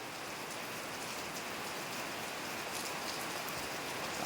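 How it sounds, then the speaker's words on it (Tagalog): Steady morning rain falls on a Saturday in November, a dense even hiss of drops on surfaces that stays constant throughout with no voices. "Grabe mga idol ang ulan mga idol."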